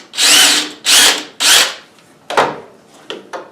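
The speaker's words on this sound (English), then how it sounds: "pre-drill a hole." Power drill pre-drilling a hole in MDF board, heard as three loud, even bursts of whirring bit biting into the board, followed by several shorter, quieter spurts.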